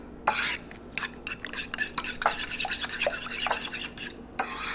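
Eggs whisked in a bowl for protein pancakes, a quick run of rapid scraping, tapping strokes against the bowl, close and crisp, with no talk.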